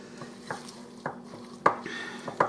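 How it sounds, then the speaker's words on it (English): A spoon knocks and scrapes through thick brownie batter mixed with nuts in a bowl, a few scattered sharp clinks and soft scrapes, close and fairly quiet. "I'm going to mix this all together"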